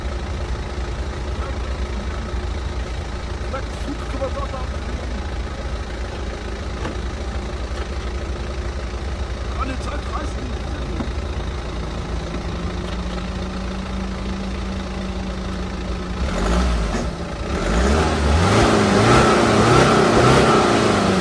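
A BMW 3 Series E90 with xDrive idles with a steady low engine hum, then its revs rise sharply near the end into a louder, sustained roar.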